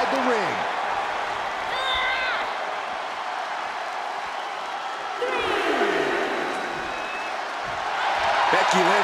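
A wrestling arena crowd in the WWE 2K23 video game roars steadily through the whole stretch, with commentary voices talking over the noise.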